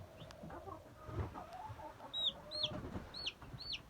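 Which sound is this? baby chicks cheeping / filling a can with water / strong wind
baby chicks cheeping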